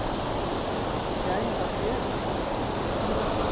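A powerful waterfall in Wales roars as a dense, steady, loud rush of water, unbroken throughout with no pauses.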